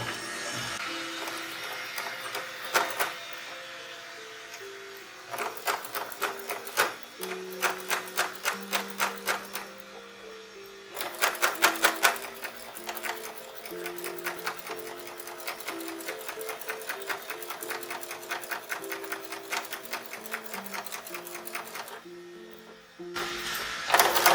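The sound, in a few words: sewing machine stitching binding in the ditch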